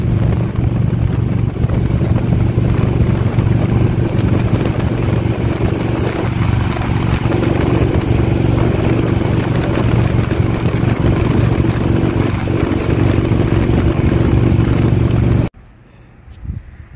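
A 2013 Victory Cross Country motorcycle riding along a road, a loud steady engine drone mixed with heavy wind rush that holds constant for about fifteen seconds, then cuts off abruptly to near quiet.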